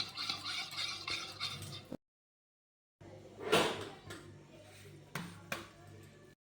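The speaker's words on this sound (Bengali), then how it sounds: "টক দই, গোলমরিচের গুঁড়ো আর একটু হালকা তেল দিয়ে এখন আমি দইটাকে ফেটাচ্ছি" Yogurt is whisked with pepper powder and a little oil for kebab marinade, giving a soft, busy scraping and tapping that stops, pauses about a second, then returns with a few sharper knocks.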